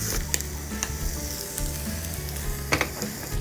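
Steady sizzling of rice frying in an oiled fish-shaped bungeoppang mold, crackling and popping continuously at close range, with an occasional light clink.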